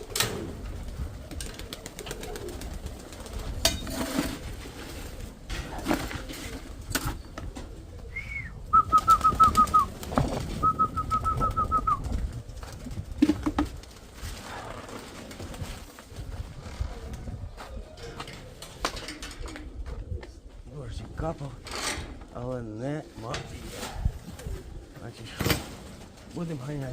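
Pigeons coo in low, repeated throaty calls, with occasional wing flaps and knocks, fairly close, while someone talks on and off over them.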